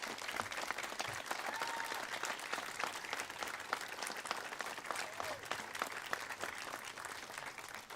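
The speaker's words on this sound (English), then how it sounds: "join me in giving a huge round of applause to all of our park staff" An outdoor crowd at a Chimney Rock park celebration claps steadily for several seconds, a dense, even applause with no voices standing out.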